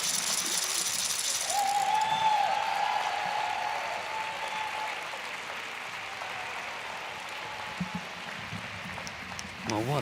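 Arena audience applauding after a men's short program at a European figure skating championship, a steady broadband wash of clapping that holds for the whole stretch and eases slightly toward the end.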